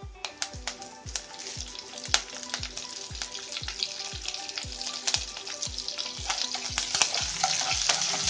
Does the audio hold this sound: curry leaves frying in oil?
yes